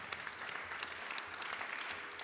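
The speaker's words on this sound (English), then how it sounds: "Please clap for them." A small audience at a family celebration claps softly for a couple marking their 40th wedding anniversary, a brief, even patter of hands heard at a distance and fairly faint.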